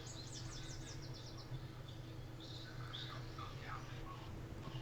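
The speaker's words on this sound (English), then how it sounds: "Lovely birds back there in the background, Nathan." Birds call faintly in the background of a tropical storm broadcast, with short high chirps and trills scattered over a steady low hum and noise.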